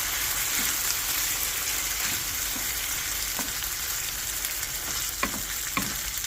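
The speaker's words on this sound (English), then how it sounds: "Give that all a good stir." Chicken with onions and peppers sizzling in a pan over low heat, a steady close frying hiss with occasional clicks and scrapes from stirring, and no talking.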